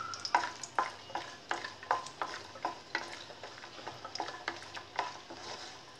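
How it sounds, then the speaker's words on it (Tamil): Cashews and four or five cardamom pods fry in ghee with a soft sizzle, punctuated by a regular series of light spatula scrapes and taps against the pan, fairly quiet and close. "முந்திரியும் வறுத்தாச்சு"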